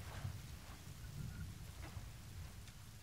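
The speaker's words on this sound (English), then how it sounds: "There's a storm up brewing." Rain in the video game The Forest as a storm brews, a steady soft hiss of falling rain with low rumbling underneath, faint and continuous with no talking.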